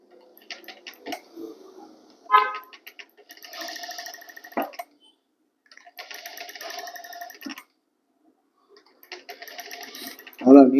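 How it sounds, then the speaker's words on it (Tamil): A sewing machine stitches piping on a blouse, running in several rhythmic, ticking stretches separated by pauses, with a voice talking in between. "ஒரு தையல் போட்டுருவோம்."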